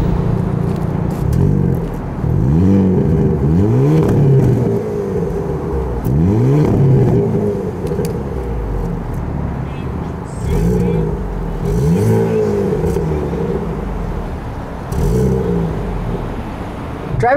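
A 2022 Hyundai Kona N with a variable exhaust accelerates on the road through repeated gear pulls, engine note rising and dropping in regular waves, loud and close, with brief pauses between runs.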